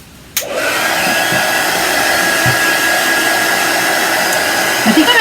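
A hair dryer switches on abruptly and blows steadily at close range, drying paint on a handmade farmstand sign, with a continuous loud whoosh and a faint whine running throughout.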